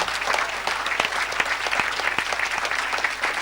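A church congregation claps gently for Jesus, a soft, steady patter of many hands that continues evenly throughout with no voices over it.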